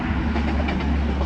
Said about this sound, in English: It's always a train.